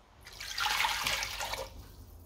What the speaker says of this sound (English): So there's our water in.